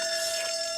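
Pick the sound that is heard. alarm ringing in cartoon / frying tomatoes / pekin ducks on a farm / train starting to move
alarm ringing in cartoon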